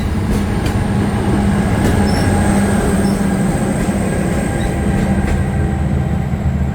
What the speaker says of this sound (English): There goes our locomotive.